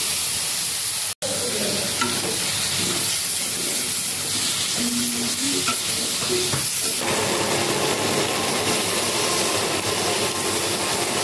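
Tomato and green chili spice paste sizzles and fries in a pan with jackfruit seeds for a vegetarian curry, stirred steadily, with a constant loud hiss and scraping stir sounds throughout and no talking.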